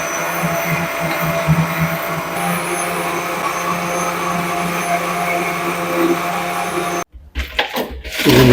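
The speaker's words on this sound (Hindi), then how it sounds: "और चीनी के बाद थोड़ा सा इसको ब्लेंड करना है" An electric blender whirring steadily as it blends plum sharbat with sugar, a loud continuous motor drone that cuts off abruptly near the end, followed by clunks and handling noise.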